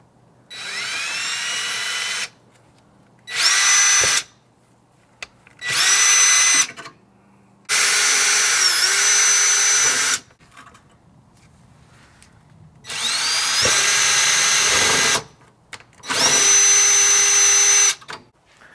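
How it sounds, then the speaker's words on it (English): Power drill boring holes into a Toyota GR86 front bumper, six separate bursts of whining, high-pitched drilling, each a second or two long, separated by quiet pauses, close and loud. "We need to drill 9 holes."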